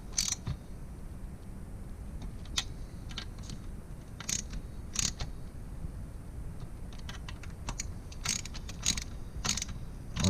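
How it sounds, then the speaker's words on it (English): A ratchet clicks in short, quiet bursts, tightening throttle body bolts on a Mitsubishi 3000GT in a star pattern, with irregular pauses between the close, crisp clicks. "Tighten the throttle body bolts in a star pattern."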